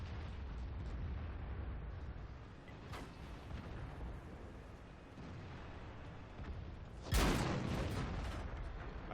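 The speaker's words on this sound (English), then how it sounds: "I think I just shot a dead tank." A tank cannon firing in World of Tanks during a heavy tank campaign mission: one loud, sharp blast stands out late, with a fainter crack earlier over steady low battlefield rumble.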